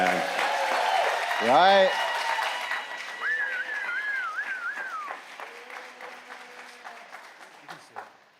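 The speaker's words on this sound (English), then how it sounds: "And one more round of applause for our coming of ages" Church congregation at a Sunday coming of age service applauds the youth, clapping that fades out gradually while someone talks over it and faint whistles and vocal sounds drift through the room.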